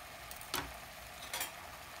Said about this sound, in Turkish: Şimdi biraz pırasalar ölünceye kadar hafif kavuruyoruz.